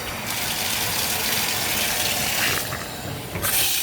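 Cold water gushing from a handheld hose into the tub of a Costway twin tub portable washer, a steady hissing fill that shifts in tone near the end as the stream moves.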